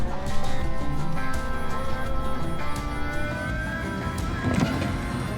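A full-size two-wheel-drive Dodge pickup truck reverses on a tight ATV trail, its engine holding a steady low idle-like rumble with faint outdoor noise, no talking.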